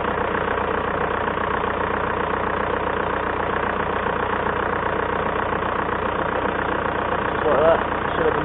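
A VW/Audi car engine idles steadily with a low, even rumble, continuous and unchanging from start to finish, with no other sound rising above it.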